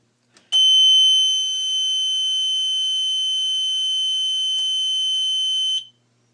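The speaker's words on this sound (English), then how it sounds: "That alarm is not that very loud," An electronic fire alarm system under test sounds one steady, piercing tone that holds for about five seconds before cutting off, alone in a quiet room.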